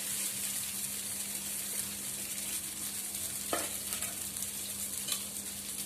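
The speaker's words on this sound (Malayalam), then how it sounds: "നന്നായി ഇളക്കി അതിനെ ഒരു ബ്രൗൺ കളർ ചേഞ്ച് ആവണ വരെ നമുക്കത് ഇളക്കി കൊടുക്കാം" Rice roasts in hot ghee, a dense steady hiss with an occasional faint scrape of stirring, and no talking.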